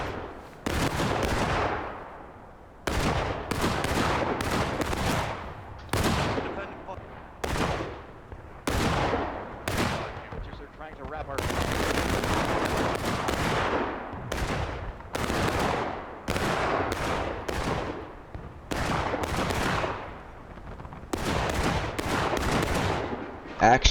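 Musket fire rolls across a 1776 War of Rights battle at Pry House, with repeated crackling volleys and scattered single shots, loud and near, over about twenty seconds.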